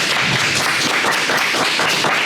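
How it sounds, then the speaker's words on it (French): Enthusiastic clapping from a group honoring trainees at a televised training-program event, dense and continuous, close and loud, with no speech over it. "grâce au talent de ces incroyables stagiaires qui peuvent s'applaudir bien fort."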